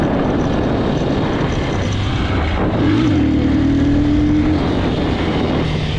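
A Geon X-Road Light 200, a 200cc Chinese motorcycle, accelerates in third gear, its engine drone rising in pitch midway and holding under heavy wind roar, close and continuous.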